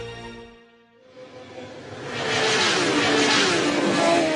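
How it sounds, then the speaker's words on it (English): A racing motorcycle engine on a road race course rises from a low drone to a loud, roaring whoosh as the bike approaches and sweeps past. "It is the fastest, toughest, and deadliest motorcycle race on Earth"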